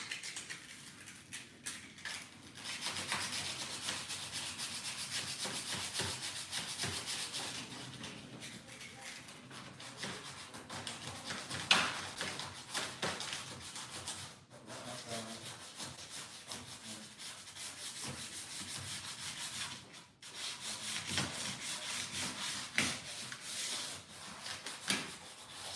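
Wood on a chest of drawers is hand-sanded with 240-grit sandpaper, giving a continuous quiet rubbing and scratching with repeated strokes and brief pauses.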